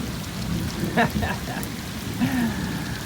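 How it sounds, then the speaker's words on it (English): Steady rain falls on a backyard pool and patio on a stormy day in South Florida, a constant hiss of drops with a couple of faint tonal calls rising briefly above it. "quite a rainy day. It actually has slowed down quite a bit"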